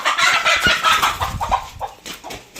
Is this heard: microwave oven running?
no